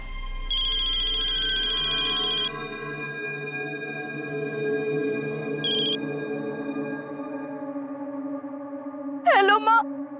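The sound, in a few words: telephone ringing as a call goes through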